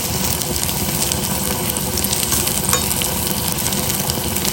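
Ingredients for a Havyaka-style basale leaf sambar sizzling and frying in a pan on a medium gas flame, a loud continuous close crackle with faint stirring scrapes.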